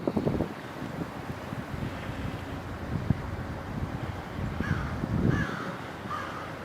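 A few harsh caws from crows ring out in the distance in snowy woods over rumbling wind noise buffeting the microphone.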